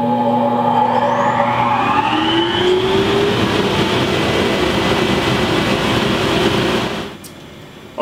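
A dust collector spins up under a noise test, its motor whine rising in pitch into a loud steady roar, then cutting off and winding down near the end.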